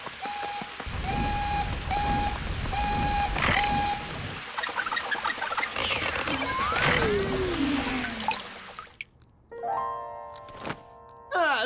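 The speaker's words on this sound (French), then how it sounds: "ça te dérangerait que j'arrête le système d'alarme?" A cartoon alarm system repeats evenly spaced high beeps, then gives way to rumbling, mixed noise and sweeping tones before harsher electronic bleeps near the end.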